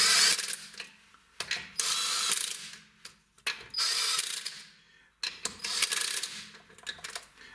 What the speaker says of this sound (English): this tool right here, Ingersoll Rand W5300 series, it's not that strong that it's gonna end up like an air impact